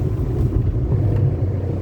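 Volkswagen Ameo engine with a throttle controller set to race mode, giving a steady, loud low rumble with road and wind noise from inside the moving car, continuous with no talking.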